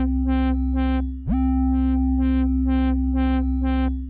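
A synthesizer sawtooth lead plays a simple melody of sustained notes, its low pass filter swept by an LFO into a regular rhythmic pulsing of brightness, with one upward pitch glide partway through; loud and alone.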